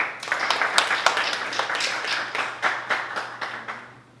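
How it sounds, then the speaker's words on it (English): Audience applause for a toastmaster at a Tamil Toastmasters evaluation contest in Al Khobar: a modest crowd claps in a steady, moderately loud burst with distinct hand claps standing out, lasting a few seconds and fading slightly near the end. "Please give him a big round of applause."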